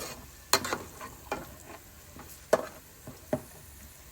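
Onions fry with a steady sizzle in a pan while a utensil scrapes and stirs, giving several sharp, irregular clacks against the metal. The sound is close and carries no voices.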